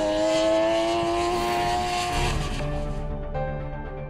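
MV Agusta F3 motorcycle engine running on a factory test stand, a loud steady harmonic drone whose pitch drops partway through as the revs fall, close and alone without talk.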